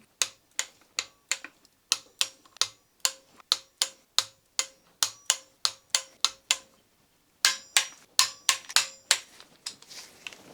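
Repeated sharp metallic clicks of a torque wrench tightening engine bolts during a Mercedes engine rebuild in a home garage, a steady run of evenly spaced ticks with a short pause before a faster final burst, close and fairly loud.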